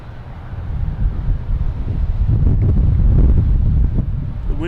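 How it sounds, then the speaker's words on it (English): Gusty wind blowing across a microphone outdoors at Boston Logan Airport, a steady low roar that swells louder through the middle and eases slightly toward the end, with no talking. "The wind is gusting, as you can hear."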